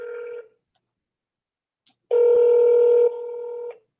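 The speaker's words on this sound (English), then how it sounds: "let's get him on the phone" Telephone keypad dialing tones played over speakerphone: a short tone, a pause, then a longer two-part tone sequence, clear and steady with no talking.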